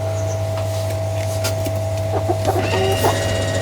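Backyard chickens cluck in short, scattered calls over a steady low hum, with a few brighter bird notes near the end, moderately close and no talking.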